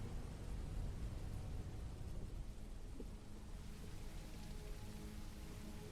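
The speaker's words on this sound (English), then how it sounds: "No, just some light rain now." Light rain falls in a soft, steady, faint hiss with no distinct drops or thunder, continuous and distant throughout.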